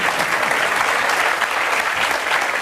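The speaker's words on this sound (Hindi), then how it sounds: "ताली बजा दीजिए आप।" A live audience applauds loudly and steadily for the whole stretch, with dense clapping and no voices over it.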